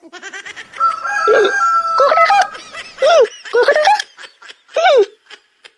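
A person loudly imitates a rooster's crow in several drawn-out bursts during a school comedy skit, with laughter and snickering around them.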